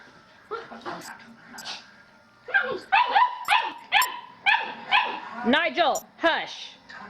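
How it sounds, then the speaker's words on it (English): A dog lets out a run of close, loud, high-pitched barks and yips in quick succession with a second dog nearby, while a person speaks through the first part. "Nigel, don't bark so much."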